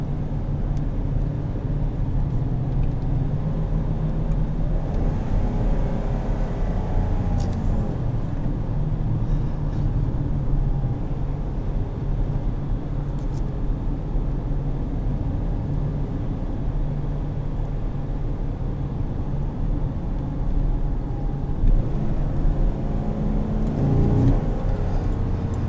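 A 2017 Chevrolet Silverado 2500HD with its 6.0 engine drives along, giving a steady, deep, rumbling drone from inside the cabin with only slight swells in the engine note throughout.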